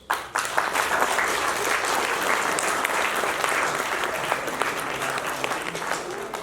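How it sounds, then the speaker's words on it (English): Conference attendees at an agriculture event give international delegates a big round of applause, dense, steady clapping from a large crowd starting abruptly and continuing for several seconds. "can we give them a big round of applause?"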